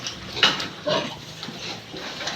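Large pigs grunt and squeal at feeding time in a farm pen, a few close, short oinks and squeaks over a low background murmur.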